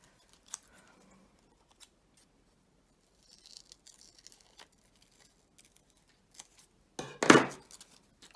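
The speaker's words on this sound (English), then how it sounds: "I'm just going to cut out this frill on the shoulder" Scissors snip through paper to cut out a shoulder frill on a fashion drawing, sparse faint clicks and rustles in near silence, then one louder crisp cut near the end.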